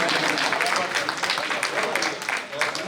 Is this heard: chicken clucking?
no